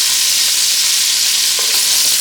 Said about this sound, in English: add the onion and the red and green peppers. Saute it for